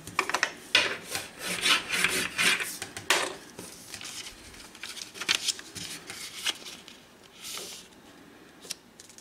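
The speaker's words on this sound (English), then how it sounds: "take a piece of paper and divide it into fourths" A sheet of paper being folded into four equal sections, with dry rubbing, creasing and shuffling noises coming in bursts close by and no talking.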